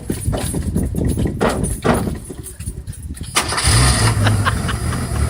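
A carbureted Ford car engine cranks with a rapid chugging starter whir, then catches and settles into a loud, steady rumbling idle, close by with no talk.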